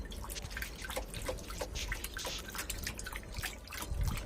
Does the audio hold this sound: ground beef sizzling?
no